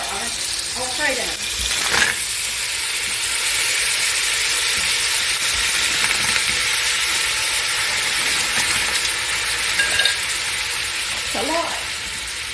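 Frozen shrimp hitting a hot pan for shrimp Alfredo, giving a steady, loud broadband sizzle that holds throughout with a few brief clinks and scrapes.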